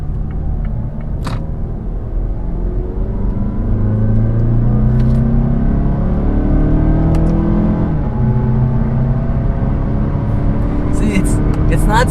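A 2016 Mazda6 engine roars and climbs in pitch as it accelerates hard on a highway, steady road rumble underneath and the revs shifting as it gears up.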